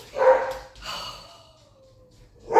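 A small dog barks and howls from another room in a house, two muffled barks followed by a drawn-out falling howl, then another bark at the end, slightly distant.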